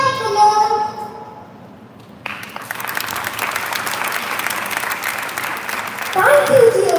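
An audience claps in a warm welcome for performers at a show, with dense, steady applause swelling after a quieter opening passage where a voice speaks over the room.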